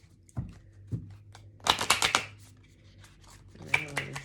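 Playing cards riffle and slap in a few short bursts, close and fairly quiet, with soft handling noises in between.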